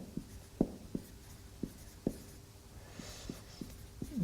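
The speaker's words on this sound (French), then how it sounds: "on va l'écrire comme ça, la négation de delta" Pen or chalk strokes writing out a mathematical logic expression, about a dozen sharp, close taps and short scratches in an irregular rhythm over a quiet room hum.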